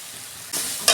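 Coconut fish masala with turmeric, red chilli powder and a little milk sautéing in a pan: a quiet hiss that jumps into a loud sizzle halfway through, then a sharp stirring burst at the end.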